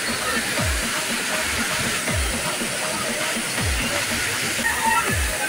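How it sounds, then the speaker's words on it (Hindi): Water pours down from above at a temple, a constant, dense rushing and splashing close by, with dull low thumps recurring every second or so and no speech. "ऊपर से कितना पानी आ रहा है देखो"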